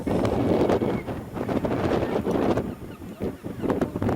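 Strong wind buffets the microphone on an Antarctic shore near penguins, with loud, gusty low rumbles that surge and ease continuously and almost fill the clip.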